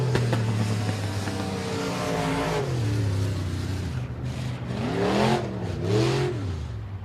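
A race car laps a speedway during time trials, its engine note rising and falling through gear changes and passes, loud and continuous, with no talking.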